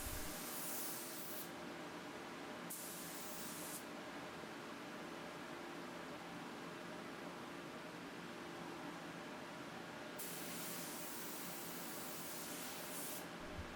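A spray gun lays gloss lacquer onto a water-damaged Dixie dresser, a loud continuous hiss that holds steady throughout, with brief brighter bursts of spray near the start and end.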